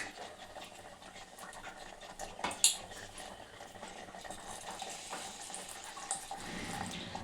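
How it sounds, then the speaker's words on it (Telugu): Milk is poured into a pot of melted jaggery while cooking Telangana-style pulagam, a soft continuous liquid pour with a faint metallic clink, quiet and close. "బెల్లము వేసినాక దీంట్లో పాలు వేసుకుందాం"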